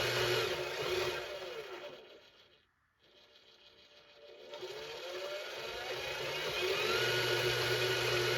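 An RCBS carbide outside deburr tool head spins steadily with a mechanical whir, fading out briefly in the middle before returning at moderate, close level with no voices.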